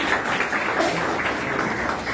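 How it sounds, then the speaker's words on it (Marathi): Sustained crowd applause at a village women's day felicitation in a gram panchayat hall, steady and fairly loud throughout with no pause, no talk over it. "जोरदार टाळ्या वाजवून स्वागत करायचे।"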